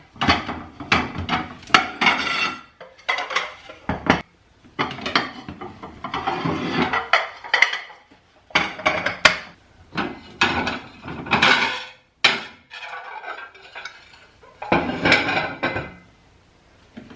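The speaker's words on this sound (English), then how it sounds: "These are plates I use, but I don't use them a lot." Ceramic plates being handled and stacked during a household declutter, a series of close clattering knocks and clinks in uneven bursts separated by short quiet gaps, with no talking.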